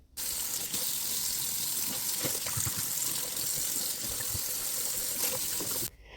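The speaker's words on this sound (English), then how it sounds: "Next, I'm just going to give it one final rinse to make sure that I am getting all the Barkeeper's Friend off." Water runs from a kitchen tap into the sink to rinse off Bar Keepers Friend cleanser, a steady close gushing splash that starts abruptly, continues for about six seconds and stops sharply, with no one speaking.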